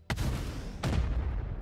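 Cannon and missile launcher firing in the space combat game Dual Universe: two heavy booming shots, one near the start and another about 0.7 seconds later, each leaving a long rumbling tail, loud and alone.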